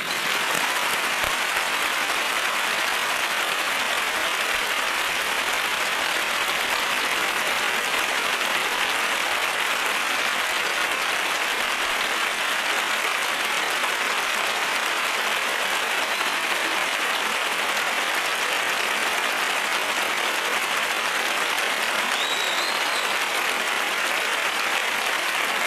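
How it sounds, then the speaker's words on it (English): Sustained applause from a large audience at the Film Independent Spirit Awards, a steady dense wash of clapping that carries on for the whole stretch with no talk over it. "please join me in a big round of applause"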